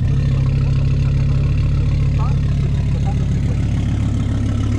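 An Audi RS3 engine swap with a hybrid turbo idles in a steady, loud, low rumble close by, unbroken throughout with faint background noise.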